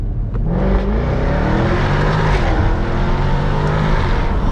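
2017 Jaguar F-Type R AWD with 550 hp, accelerating hard in first gear with the exhaust open, a loud close engine roar that climbs steadily in pitch.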